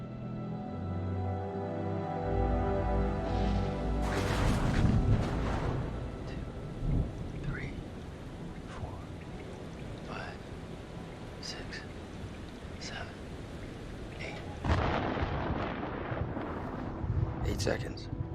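Thunder from a storm in the horror game Man of Medan rolls and cracks in several heavy bursts over a low rumble, while people talk at moderate volume through much of it.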